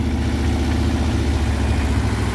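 A car engine on an uphill driving test gives a steady, loud, low rumble with a slight vibrating texture, unbroken from start to finish.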